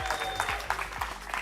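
A brief round of applause breaks out as a participant is welcomed to the centre of the stage at a motor-racing creator event. It is a scattered, moderately loud clatter of clapping from a small crowd.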